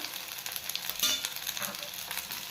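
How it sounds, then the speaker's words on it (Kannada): Onions and tomatoes fry in a pan for a village-style bean sambar, with a steady close sizzle and faint stirring crackles running through without a break. "ಈರುಳ್ಳಿ ಗೋಲ್ಡನ್ ಕಲರ್ ಬರೋವರೆಗೂ ಫ್ರೈ ಮಾಡ್ಕೋಬೇಕು"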